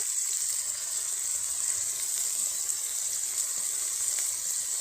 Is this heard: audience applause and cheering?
no